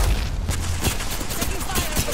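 Rapid bursts of gunfire in the Apex Legends video game, loud and continuous over a game character's callout voice.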